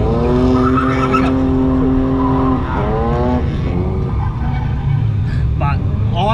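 Rear tyres squeal and skid as a car drifts during a driving lesson, long sustained screeches with engine noise and a voice talking over them.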